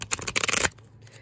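Tarot cards being shuffled by hand, a quick burst of rapid riffling flicks up close that stops abruptly after about half a second, followed by faint rustling.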